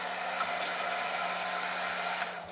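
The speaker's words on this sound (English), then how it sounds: "should I use the warm setting of my mom's hair dryer or the hot setting?" A borrowed household hair dryer on its hot setting blows a steady, close whooshing hiss with a low motor hum underneath, unbroken for the whole stretch.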